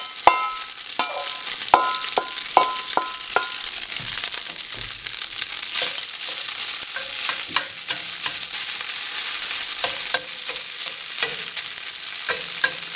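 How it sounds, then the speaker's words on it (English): Ground beef substitute browning in a frying pan with a little olive oil, giving a steady sizzle and fry broken by sharp scraping and stirring clicks from a spatula, close and fairly loud with no talking. "I'm just gonna drop this in the pan so we can start browning it up"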